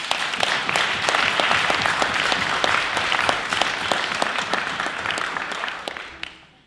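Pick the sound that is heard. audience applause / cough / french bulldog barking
audience applause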